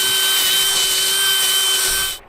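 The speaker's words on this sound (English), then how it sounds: "Drill that out a little bit." A power drill bores steadily into wood during a treehouse build, its constant high whine holding loud and close for about two seconds before cutting off.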